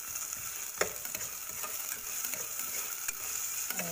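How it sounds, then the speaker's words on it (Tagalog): Onions sauté in a pan over medium heat, giving a constant hissing sizzle. A few sharp clicks and scrapes from stirring break through. Close and moderately quiet, with no speech. "Then, ilagay naman natin ang sibuyas."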